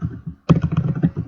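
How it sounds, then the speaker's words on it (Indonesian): Typing on a computer keyboard while entering a letter header in Microsoft Word, heard as a close, quick run of clacking keystrokes after a short pause, with no talking. "di sini kita ketikkan"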